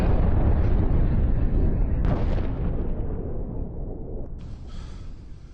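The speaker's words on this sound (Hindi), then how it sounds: "हिजबुल्लाह के पोस्ट पर जबरदस्त बमबारी, हथियार डिपो को उड़ाया" Heavy bombardment explosions in war news footage of strikes on Hezbollah positions and a weapons depot, a loud sustained rumbling blast that slowly decays, with a sharper second burst partway through.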